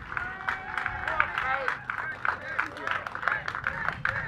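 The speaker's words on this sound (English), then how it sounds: "please give Kate a big round of applause" Festival crowd claps steadily for a woman who has just tried a chilli in a chilli eating contest at the Devon Fire & Spice Festival, dense moderate clapping with a voice ringing over it throughout.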